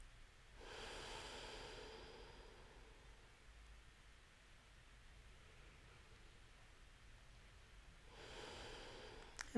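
Slow, deep yoga breathing, two long airy breaths spaced several seconds apart with quiet between them, close and soft, with no talking.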